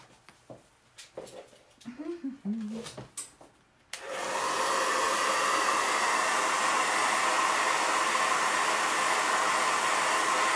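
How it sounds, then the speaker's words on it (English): Handheld hair dryer blowing on homemade buffalo plaid decorative holiday camper lights, switching on after a few seconds of brief handling noises and then running as a loud, steady broadband whoosh to the end. "I'm going to pull out my dryer, and I'm going to dry these lights again"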